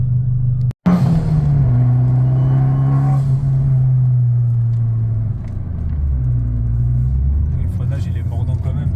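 A Fiat Abarth competition car's engine rumbles loudly from inside the cabin, revving and re-accelerating with shifting pitch while people talk over it.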